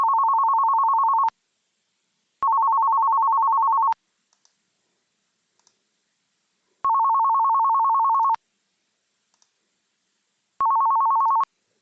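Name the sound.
phone ringing with an incoming call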